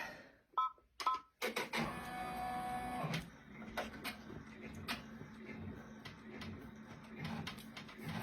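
An embroidery machine stitches a heart zipper pouch design, a steady mechanical whir with rapid needle chatter running close and continuous after a few sharp clicks at the start.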